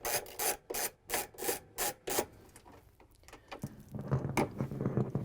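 A 3/8 inch socket ratchet with an extension backing out the cover bolts on a GE washing machine, a close run of rhythmic ratcheting strokes followed by softer, busier clicking and rubbing.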